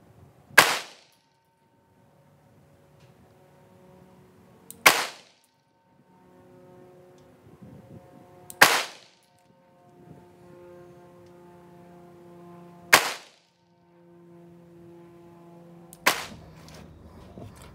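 Five sharp, loud Glock 45 MOS pistol shots at an outdoor shooting range, spaced roughly four seconds apart, each with a short ringing decay and no talk between them.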